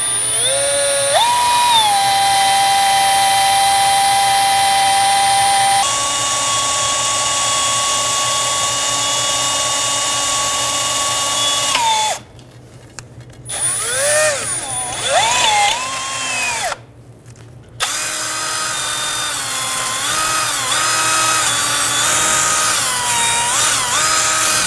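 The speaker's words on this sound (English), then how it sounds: "I'm going to drill out the old cotter pin material." A power drill bores out old cotter pin material from the front knuckle of a 2007-2011 Toyota Camry, a loud steady whine with pitch shifts, broken by two brief pauses.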